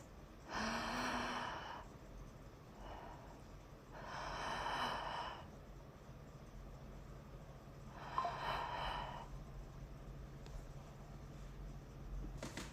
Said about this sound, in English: inhaling deep into the belly, and a soft exhale, allowing the breath to just release